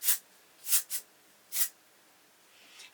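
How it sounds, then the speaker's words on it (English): Hair spray is applied to medium-length hair in short hissing bursts: four quick sprays in the first second and a half, then a fainter spray near the end, close and otherwise quiet. "I'll kind of like pull out my hair and kind of spray"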